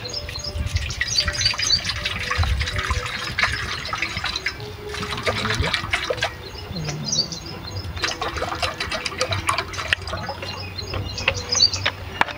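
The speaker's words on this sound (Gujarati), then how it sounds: "પાણી" Water is poured during cooking for Gujarati malpua, a running splash that starts and stops in bursts, with birds chirping nearby and faint voices in the background.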